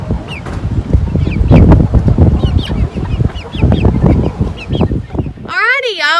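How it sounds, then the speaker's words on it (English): A flock of chickens, young chicks mixed with grown hens, clucks and squawks loudly up close in a busy overlapping chorus, with a sharper squawk or honk at the end. "We are moving our baby chicks in, or our bigger size baby chicks in with our big girls today."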